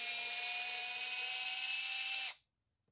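A power drill or driver whirs steadily at high speed for over two seconds while unscrewing the screws on a Onewheel Pint electric board, then cuts off abruptly into silence.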